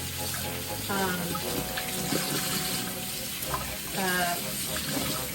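Fabric being wetted under a running tap before dyeing: a steady rush of water into a sink with splashing, and a person speaking over it.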